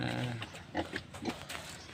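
Pig on a Filipino backyard farm, raised for roasting, grunting in a few short bursts close by, with someone speaking over the animal sounds.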